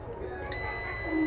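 A continuity tester buzzes steadily while its probes touch a wire, one sustained electronic tone with no breaks, close by and alone.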